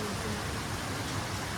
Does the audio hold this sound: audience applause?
no